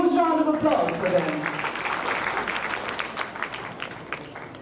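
Audience applause at a welcome and thanksgiving ceremony after a musical performance, a steady clapping crowd that starts over the fading tail of music and talk, then continues at an even level.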